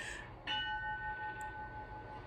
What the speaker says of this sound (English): I guess the bells are still going on spring break.